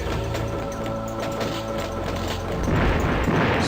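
Deep rumbling explosions from the video game Crusader: No Remorse roll out in a dense, continuous wall of booming, growing heavier and louder toward the end with no voices.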